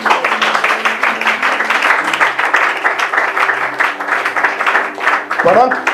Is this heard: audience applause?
yes